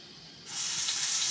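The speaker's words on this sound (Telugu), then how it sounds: "ఉల్లిపాయ ముద్ద బాగా వేయించేస్తున్నాను నేను" Onion paste hitting hot oil in a pan, bursting into a loud, steady hiss and sizzle after a brief quiet moment, close by and continuing.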